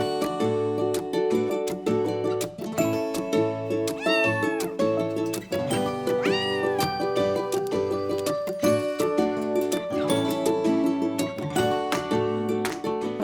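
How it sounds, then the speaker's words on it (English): A kitten meows several times, short rising cries standing out over steady background music. "So this is one of the kittens that Megan brought."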